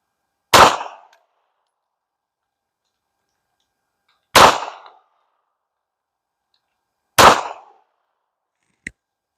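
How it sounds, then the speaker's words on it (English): Canik Rival pistol firing Independence full metal jacket rounds at a range, three loud sharp shots spaced several seconds apart with short decays, then a brief fainter click or shot at the end. "I'm going to put the old Independence Full Metal Jackets back in and shoot them one time just to see"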